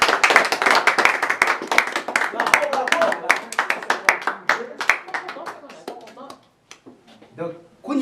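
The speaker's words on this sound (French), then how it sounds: "Applaudis, applaudis," Guests at a wedding ceremony clap just after the couple is declared married, a lively burst of applause that thins out into scattered claps and fades, with people talking over it.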